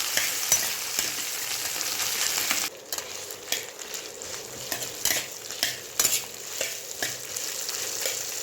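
Chickpeas with ginger paste sizzle steadily in a hot pan while a spoon scrapes and stirs them in repeated clattering strokes, close up with no voices.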